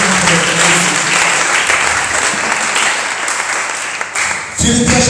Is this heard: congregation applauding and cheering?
yes